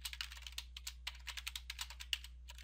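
A password goes into a computer keyboard as a quick, steady run of light key taps, close but quiet over a low electrical hum, with no voices.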